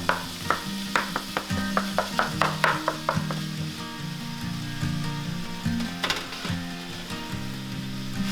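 A pound of lean ground beef sizzling in a skillet, a steady frying hiss broken by a quick run of sharp scraping stirs with a spatula, with no talking.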